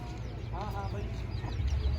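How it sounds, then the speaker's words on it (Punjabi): Chickens and chicks for sale at the Muktsar Maghi horse fair cluck in short bursts amid a busy outdoor crowd murmur, with low rumbling background noise throughout. "ਇੱਧਰ ਮੁਰਗੀ ਵੀ ਪਈ ਆ ਬੱਚੇ ਵੀ ਆ"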